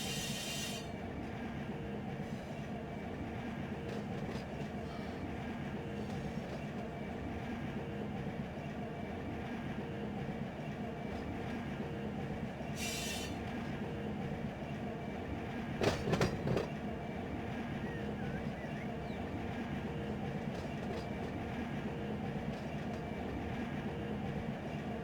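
A train rolls steadily in the Run8 simulator, a low continuous rumble with occasional high wheel squeals and a brief clanking burst near the end as it rounds a bend.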